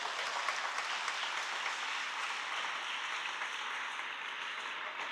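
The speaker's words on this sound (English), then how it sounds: "Please give her a round of applause." An audience applauds steadily at a ceremony marking fifty years of girls at a school, a dense, even wash of clapping from many hands that carries on for several seconds with no talk over it.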